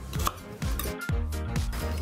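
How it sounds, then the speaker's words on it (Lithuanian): Rhythmic knife strokes chopping onions on a cutting board, a handful of evenly spaced chops with a resonant, slightly ringing tone. "Susismulkinkime svogūnus."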